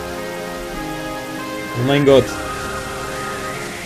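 Rain keeps pouring in Pokémon Black as a steady hiss, while a man briefly exclaims over it midway.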